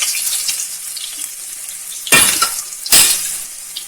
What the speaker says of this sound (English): Now this garlic and ginger will give very good flavor in the oil.